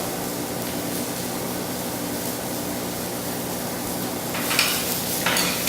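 Mushrooms with thyme sautéing in a pan, a steady close sizzle throughout, with a few brighter bursts of spitting and stirring near the end.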